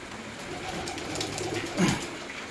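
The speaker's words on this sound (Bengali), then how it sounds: "এখানে 3 জোড়া পায়রা জোড়া বসাচ্ছি রেসার আছে" Racer pigeons coo softly inside a loft, a low murmuring call repeating with one louder coo near the end, over a faint hiss of rain.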